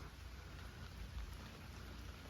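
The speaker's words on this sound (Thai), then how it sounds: "ฝนลงเม็ดเม็ดใหญ่อยู่พี่น้อง" Heavy rain with big drops pours down steadily outdoors during a fishing trip in Phetchabun, a dense, even hiss with low rumbling underneath and no voices.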